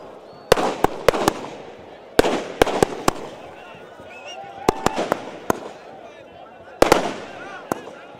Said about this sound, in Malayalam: മാനത്ത് വർണ്ണവിസ്മയം തീർത്ത വെടിക്കെട്ടും കാണികൾക്ക് ആവേശം നൽകി